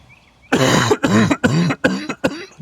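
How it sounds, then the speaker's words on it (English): A person clears their throat repeatedly because of pollen, five or six harsh, close rasping bursts in quick succession after a brief quiet moment. "I got to clear my throat."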